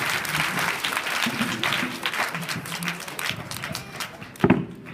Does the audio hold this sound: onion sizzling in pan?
no